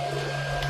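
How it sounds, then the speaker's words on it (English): A Hoover vacuum cleaner runs steadily indoors, a constant loud motor drone with a strong low hum and airy hiss throughout this short moment, no voice over it. "Sorry about that noise, that's the Hoover."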